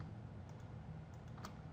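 Soft, steady computer keyboard typing with scattered faint mouse clicks during work in modeling software, quiet and close, with no voices over it.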